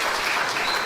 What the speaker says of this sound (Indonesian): Tepuk tangan dong buat jemaat di Cimahi.